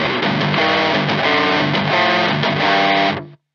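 An electric guitar played through a Demonfx Precision Drive pedal with the drive turned up gives sustained, gritty distorted chords and notes. It rings loud and steady for about three seconds, then cuts off abruptly.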